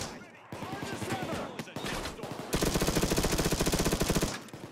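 Rapid full-auto shotgun fire in the virtual reality game Payday 2, sounding as dense, continuous bursts of gunshots that grow louder and steadier toward the end amid game action.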